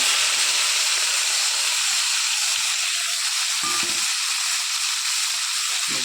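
Small river fish frying in hot oil, a steady loud sizzle with constant hiss running unbroken throughout, close up, with faint clinks of a utensil underneath.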